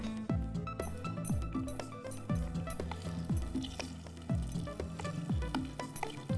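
Spoonfuls of thick snack batter dropped into hot oil, frying with a close, continuous sizzle; repeated spoon scrapes and taps land at a quick, uneven rhythm over the bubbling.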